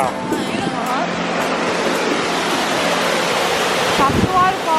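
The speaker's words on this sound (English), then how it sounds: "We just hiked to the top of the waterfall." A waterfall rushes at the top of the falls, a loud, steady broadband roar of falling water that fills the whole clip close by.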